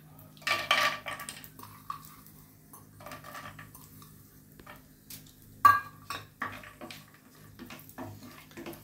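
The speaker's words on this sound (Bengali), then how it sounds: "কাজু কিশমিশগুলো একটু ভেজে নিচ্ছি।" Cashews and raisins fry over very low heat in a pan for basanti pulao, with intermittent metallic clinks and scrapes of stirring over a faint background, loudest bursts near the start and middle.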